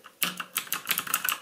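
Close typing on a budget Woolworth mechanical gaming keyboard fitted with Cherry MX Blue clone switches, giving a short burst of crisp, clicky keystrokes that sound slightly muffled, with no speech.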